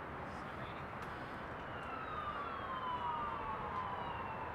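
Ambulance sirens wail faintly from a nearby highway, their rising and falling tones riding above a constant wash of traffic roar.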